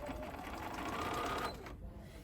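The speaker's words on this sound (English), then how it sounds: "We're gonna start out by sewing 2 layers of that denim." A BERNINA 540 sewing machine stitches through two layers of stiff denim, a steady close motor whir with rapid needle rhythm that cuts off near the end.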